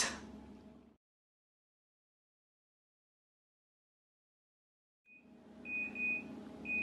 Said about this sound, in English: That means that the timer's up and the flapjack should be ready